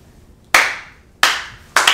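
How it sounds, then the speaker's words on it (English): Three slow, separate hand claps ring out, each loud and sharp with a short decaying tail and quiet gaps between, at an awards production greeting. "Slow clap it up."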